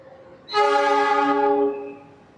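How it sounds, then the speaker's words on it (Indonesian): The Fajar Utama train to Yogyakarta departing Pasar Senen station in Jakarta sounds one loud, clear horn blast lasting about a second. The blast then fades out against quiet surroundings. "kereta api Fajar Utama Yogyakarta diberangkatkan dari stasiun Pasar Senen"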